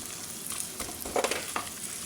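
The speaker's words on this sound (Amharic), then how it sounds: "ዶሮይቱ በዚህ መልኩ ነው የምትበስለው።" Chicken fries in a pan with a soft steady sizzle, broken by a few crackling pops and stirring scrapes, fairly close and quiet.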